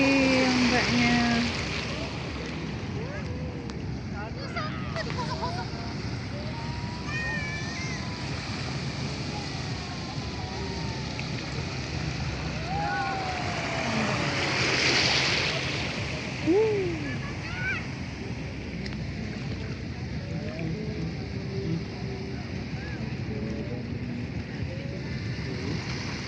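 Ocean waves washing onto a white sand beach in Lampung, a steady broadband wash with a swell around the middle, under wind and people talking nearby.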